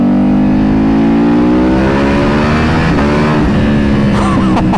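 A Ducati Panigale V4 motorcycle accelerates hard on a dyno, its engine note climbing steadily in pitch as revs build, loud and close throughout with no pauses.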